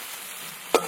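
Chopped onion hits hot oil with a close, steady sizzle that is broken near the end by a short, sharp clatter.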